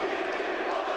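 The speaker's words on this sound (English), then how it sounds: "This rhythmic chanting and singing, and you can see it really gives a lift to Galatasaray" Galatasaray basketball fans at a Basketball Champions League game fill an arena with dense, loud crowd chanting and singing, a continuous sustained roar throughout the brief moment.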